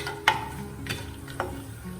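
Whole spices sizzle softly in a pan: cinnamon, cardamom, cumin and black pepper. A steady low crackle runs underneath a few stirring scrapes and ticks.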